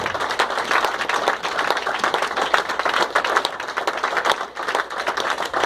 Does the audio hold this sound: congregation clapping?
yes